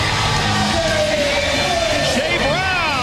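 A woman lets out a loud, drawn-out scream that rises and bends in pitch as a roller derby team, the Nevada Hot Dice, enters the arena, set against a roaring, cheering crowd.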